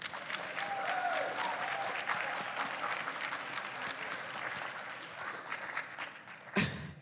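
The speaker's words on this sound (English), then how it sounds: "Give yourselves a round of applause." An audience at a talk on partnership collaborations gives a steady round of applause that fills most of the stretch, then a brief louder burst near the end.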